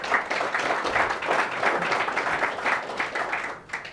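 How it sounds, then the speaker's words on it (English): Applause from an audience at a Rotary Club meeting, a steady wash of many hands clapping for about four seconds before tapering off at the end. "So we applaud you."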